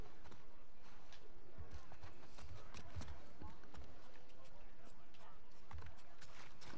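In the video game The Last of Us Part II, horse hooves clip-clop in a steady walking rhythm, soft and low under ambient game sound while a person talks.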